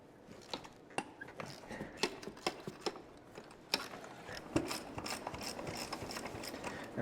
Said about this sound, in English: we can take this nut and loosen it up. That'll take the tension off the track